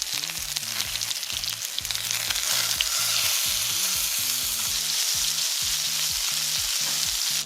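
Salmon fillet frying in a hot pan, a loud continuous hiss and sizzle close by, with a low rhythmic hum pulsing underneath throughout.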